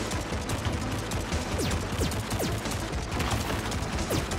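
Rapid gunfire from a player's gun in the video game Vostok Inc., a dense, continuous stream of small shots mixed with chirpy game effects, steady and fairly loud throughout.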